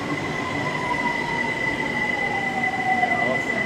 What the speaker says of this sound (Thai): ตอนนี้รถไฟกำลัง เทียบ เข้าเทียบชานชลาแล้วนะครับ